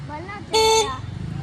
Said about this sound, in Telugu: హార్న్ ఎందుకు కొడుతున్నావురా